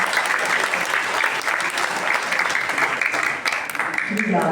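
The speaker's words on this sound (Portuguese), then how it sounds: "vamos dar mais uma salva de palmas para esse jovem" An audience at a regional colloquium in Quirinópolis breaks into sustained applause, a dense, steady wash of clapping that continues evenly throughout with a voice faintly mixed in near the end.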